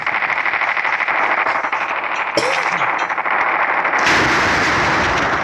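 Gunfire from a sniper rifle in the video game Call of Duty: a dense, loud battle soundscape with a sharp shot midway and a bright burst near the end, under continuous noise.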